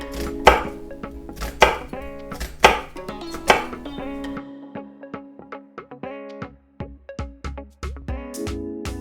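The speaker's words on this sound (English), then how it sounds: "I'm now just going to chop my red onion" A knife chops red onion for a sweetcorn and avocado salad. The blade strikes the board in steady, crisp knocks that are close and loud, speeding into a quicker run of lighter taps.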